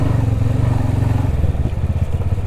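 A motorcycle engine chugs in a steady, pulsing rhythm while riding slowly into Garh village, District Bhimber, near and loud, with no voices.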